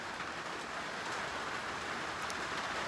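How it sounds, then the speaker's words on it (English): Heavy rain that has persisted for a week pours down steadily outdoors, a dense, even hiss of drops on surfaces, loud and continuous with no pauses. "You hear that rain?"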